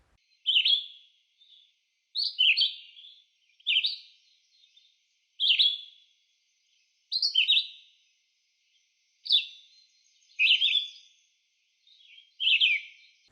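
A red-eyed vireo sings short, slurred phrases repeated about every one and a half seconds, clear and fairly close, each brief phrase separated by silence.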